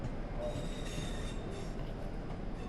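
A train in Train Sim World 3 rolls into a snowy Birmingham stop, a steady low rumble with a thin wheel squeal and faint clicking, continuous and fairly loud with no talking.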